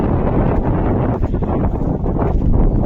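Loud, continuous wind rumble pounds the microphone in open farm fields, a dense low roar that stays strong for the whole stretch.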